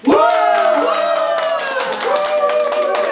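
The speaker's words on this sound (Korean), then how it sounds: "박수 한번 쳐주세요." A seminar audience claps together, a busy patter of hands partly buried beneath a loud, sustained voice or tone that rings out over the whole stretch.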